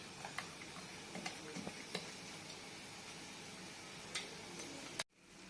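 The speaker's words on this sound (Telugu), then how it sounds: "ఇలా బాగా కలుపుకొని ఏమాత్రం ఉండలు ఉండకుండా కలుపుకోవాలి." Puri batter is stirred smooth in a bowl. A spoon makes soft, irregular clicking taps over a faint steady background, then everything cuts off abruptly just before the end.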